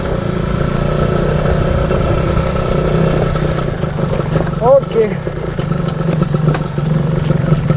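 A Yamaha F1ZR underbone motorcycle idles and runs with a steady mid-pitched engine drone and some clatter, heard close while someone talks briefly over it.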